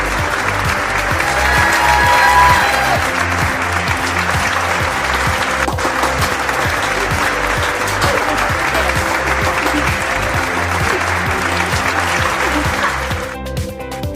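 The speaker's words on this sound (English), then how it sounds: "Let's give them a big round of applause." A school audience gives a big, sustained round of applause at a family health program event, a loud, even roar of clapping lasting most of the time before cutting off abruptly near the end.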